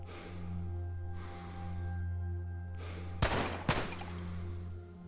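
Gunfire in the video game Cataclysm DDA comes as two sharp, close cracks in quick succession. A low electronic hum runs underneath, along with soft breathy noises.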